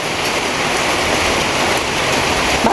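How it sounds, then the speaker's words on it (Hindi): Steady evening rain pouring down outdoors, a dense continuous hiss of drops on surfaces, loud and close with no pauses. "बारिश आ ही गई।"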